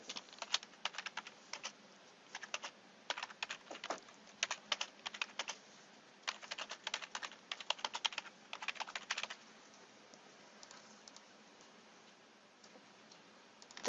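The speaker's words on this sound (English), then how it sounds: "You type in the topic that you delivered." Typing on a computer keyboard, close and fairly quiet, in quick bursts of clicky keystrokes with short pauses, ending in a longer quiet stretch.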